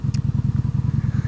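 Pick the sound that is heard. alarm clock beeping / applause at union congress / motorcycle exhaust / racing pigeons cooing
motorcycle exhaust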